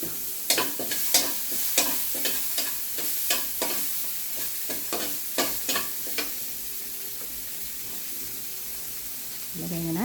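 Garden vegetables sautéing in oil left over from frying fish, with a soft steady sizzle and a run of sharp scraping stirs in the first half, then quieter frying.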